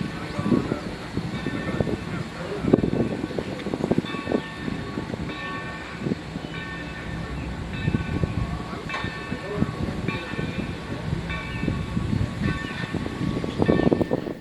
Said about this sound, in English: 3025 then couples back onto its train at the far end of the siding